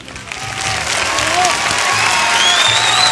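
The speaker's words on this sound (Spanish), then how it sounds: "Mira qué pedazo de aplausos va a dar todo el público ahora." Sustained audience applause for a children's dance group from an Aragonese folk ensemble, a dense wash of clapping that holds steady and loud throughout, with faint voices mixed into the crowd noise.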